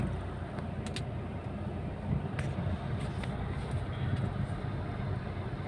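A car rolls out from a house onto a main road, a low, muffled rumble of engine and tires under steady road noise, with a few faint clicks and knocks inside the cabin.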